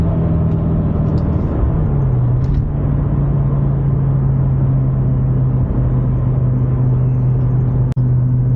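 A BMW E60 M5 with its V10 engine drones steadily from inside the cabin while driving, a loud constant rumble with a low hum that dips slightly in pitch early on, and a brief click near the end.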